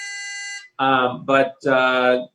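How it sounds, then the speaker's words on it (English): Floor buzzer in the House of Representatives: a steady electronic tone sounds once, then after a short gap three harsher buzzes follow in an uneven rhythm, loud and close with no talking. "When I first got here, I thought, my God, is it a fire? What's going on? But it's just the buzzer."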